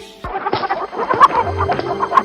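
A cartoon hen clucks and squawks in a busy run of fowl calls, mixed with other cartoon sound effects, fairly loud and continuous with sharp accents.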